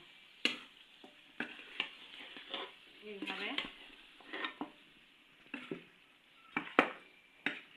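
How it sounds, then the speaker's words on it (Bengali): Meat is stirred and sautéed with spices in a pan, a soft sizzle under repeated clacks and scrapes of a spoon against the pan at close range. "এখন মাংস ঢেলে দিব। দিয়ে একটু কষে নেব।"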